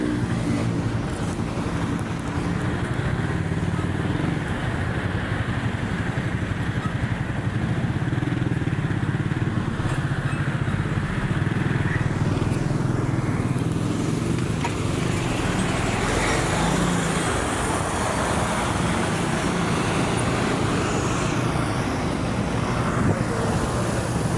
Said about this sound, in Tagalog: Ayan guys, na traffic pa nga.